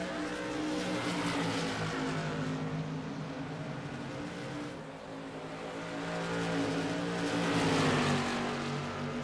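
Stock race cars roaring around the Myrtle Beach track, a dense steady engine drone with revs swelling and fading as the pack passes, loud and continuous.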